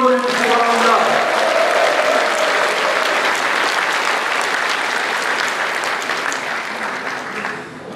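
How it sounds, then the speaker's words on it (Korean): A crowd of party members applauds loudly at a People Power Party convention in South Chungcheong. The clapping rises right after a speaker's voice at the start, holds as a dense roar, then slowly fades. "큰 박수 한번 보내주시기 바랍니다."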